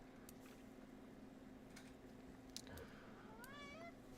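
A hungry pet cat gives a single rising, wavering meow near the end, heard over a steady low background hum.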